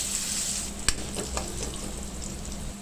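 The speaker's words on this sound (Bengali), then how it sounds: "এখন ডিম ভাজি করব" Eggs frying in a pan, giving a quiet steady sizzle close by, with one sharp clink early on and a few soft scrapes, and no voices.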